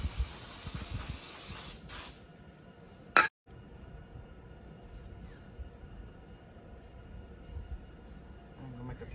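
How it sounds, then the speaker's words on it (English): Brake cleaner sprays onto an RV axle to clear old brake dust, a close, steady hiss that runs a couple of seconds, then a short sharp burst before softer intermittent spraying. "I'm also going to spray back there and get a little bit of that old brake dust off of the axle"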